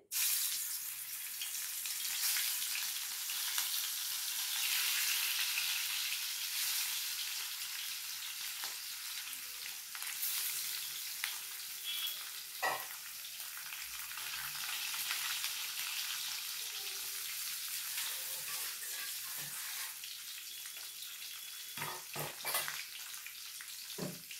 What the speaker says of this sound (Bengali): মাছটাকে ভালো করে ভেজে নিতে হবে।